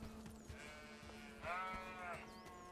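Sheep bleating in the video game Bellwright, one clear wavering bleat in the middle of a quiet farm scene with soft background hum and light clicks.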